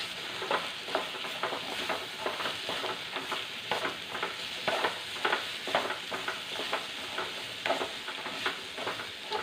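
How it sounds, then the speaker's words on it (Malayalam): Mango pieces sautéed in a pan for Kerala-style mango curry, with steady sizzling and regular scraping stirs of a spatula, close and moderately loud, with no talk. "മാങ്ങ ഇട്ടൊന്ന് ഒന്ന് വഴറ്റിയെടുക്കാം"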